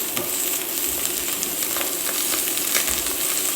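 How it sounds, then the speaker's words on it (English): Onion, leek, carrot and garlic sizzle steadily in a hot pan for a chicken stock, a continuous crackling fry with scattered pops, close and moderately loud, no talk. "You want to hear a sizzle when it goes in."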